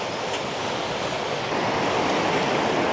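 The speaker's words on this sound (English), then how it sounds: "This river's just too fast with all the snow melt right now" A fast river swollen with snow melt rushes in the Alaskan woods, a loud continuous broadband roar of churning water that stays steady throughout, with no voices.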